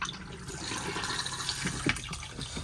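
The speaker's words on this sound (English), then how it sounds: "you would flush the toilet" Water rushes steadily into the toilet bowl of an Auto-Trail Apache 634 motorhome during a flush, a close, continuous splashing with a small clunk at the end.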